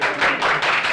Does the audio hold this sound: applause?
yes